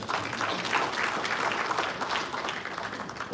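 Audience applause for a speaker at an oil and gas conference, steady dense clapping from a crowd that holds at an even level throughout.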